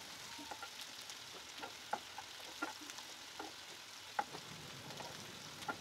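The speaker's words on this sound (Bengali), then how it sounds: "এবার নেড়ে চেড়ে প্রথমে পেঁয়াজগুলো হালকা করে একটু ভেজে নিব।" About half a cup of chopped onions fry lightly in hot oil for a Bengali tengra fish curry, a steady soft sizzle with scattered scraping clicks of stirring throughout.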